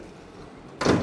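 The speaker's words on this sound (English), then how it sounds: "I just want to show you the side sliding doors" A Mercedes-Benz Sprinter large van's side sliding door runs along its track and then lands with one loud, close thud near the end, preceded by a low, quiet rumble.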